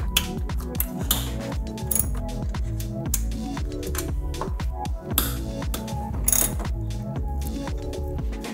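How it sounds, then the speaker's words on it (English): A ratchet wrench loosens the 12 millimeter strut top bolts on a Nissan R35 GTR during a lowering spring install, giving close, steady clicking pawl ratchet strokes with occasional metallic taps. "now we are going to take off the 3 12 millimeter top bolts"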